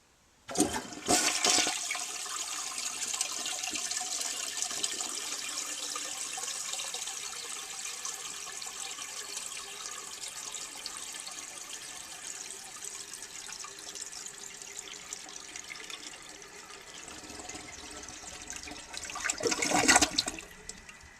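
A 1970 Cadet toilet gives a loud rushing flush, then a long, slow, sluggish drain and refill of water that fades mid-way, ending with another surge of rushing water.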